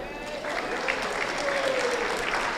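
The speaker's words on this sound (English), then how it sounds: "He's upstairs, but he can hear you clapping" An audience at the Arizona State FLL Lego robotics tournament breaks into applause, building quickly from a quieter start into a full, sustained clatter of many hands in a large hall, with a voice briefly audible underneath.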